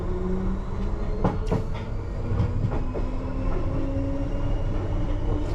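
A London Underground train pulls away at night between Acton Town and Rayners Lane, heard from the cab as a steady, loud low rumble with scattered rail clicks and clatter, no voices.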